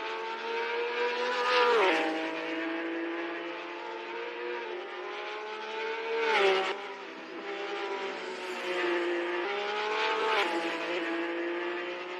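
Virtual race cars in a sim-racing event, one exiting the pits on medium tyres, engines droning steadily with harmonic whine and gear-change dips, several revving surges across the stretch, no talking.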